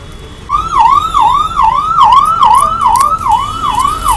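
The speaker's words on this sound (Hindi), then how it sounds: "और जाम में फंस चुकी है एम्बुलेंस, और किसी ने उसे पास नहीं दिया है" A wailing ambulance siren, stuck in a traffic jam on a road from Delhi to Almora, sweeps up and down rhythmically, loud and close, with traffic noise beneath.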